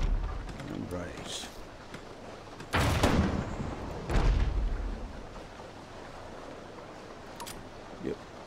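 Ship cannons fire in the naval video game Abandon Ship, two heavy booming blasts about a second apart standing out over a quieter game soundscape, with a small sharp pop near the end.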